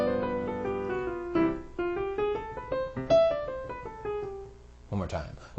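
A single-note melodic line descends the G dominant bebop scale in a smooth run of connected pitches, played up close, with a brief burst of other sound at the very end.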